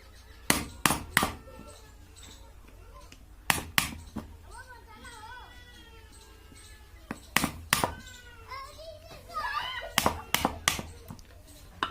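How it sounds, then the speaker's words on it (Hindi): Sharp metal taps ring out in quick clusters as the I-type laminations of a 12 V transformer are knocked loose, heard close up between stretches of someone talking. "कुछ इस तरह से आपको ठोक कर निकाल लेना है।"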